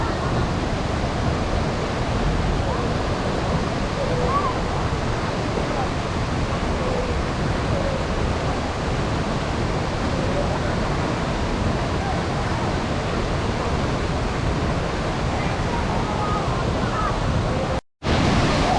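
A constant, roaring rush of falling water at Huai Luang Waterfall, Phu Jong-Na Yoi National Park, Ubon Ratchathani, Thailand, dominates throughout, broad and loud, with a brief dropout near the end.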